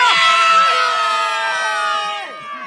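A non-league football crowd at Erith Town FC in the Isthmian South Eastern Division roars and cheers after a penalty shootout play-off win, many voices shouting and whooping together, loud and close, easing slightly toward the end.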